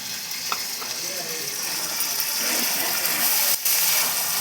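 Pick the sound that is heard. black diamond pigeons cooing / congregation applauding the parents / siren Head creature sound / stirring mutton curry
stirring mutton curry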